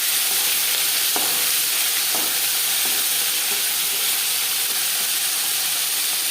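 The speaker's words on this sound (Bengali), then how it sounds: "পরিমাণ মতো রিফাইন্ড অয়েল গরম করে নিয়েছি এবার দিয়ে দেব লবণ মেখে রাখা মাছ" Salted mourola fish frying in hot refined oil, a loud, hissing, continuous sizzle close up with a couple of faint knocks early on, no speech.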